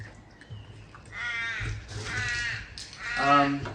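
A few harsh crow-like caws sound at moderate distance, the last one loudest, over quiet background noise.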